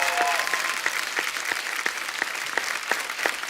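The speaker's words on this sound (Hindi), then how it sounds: "कितनी तालियां बजा रहे हैं।" Studio audience applause on a comedy talk show, dense and steady throughout, with a faint tonal whistle near the start and regular sharper accents over the clapping.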